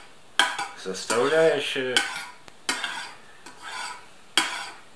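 A spoon clinks and scrapes around a container while a honey and jam mixture is stirred for a dandelion village kissel, sharp metallic taps between rasping strokes, close, with a brief spoken word.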